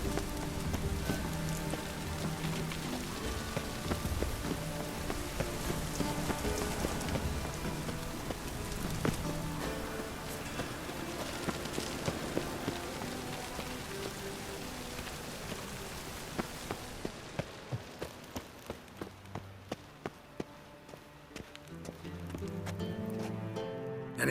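Steady rain falls in The Witcher 3: Wild Hunt, a continuous wash under a game soundscape with a horse's clip-clop hooves and music, easing off near the end.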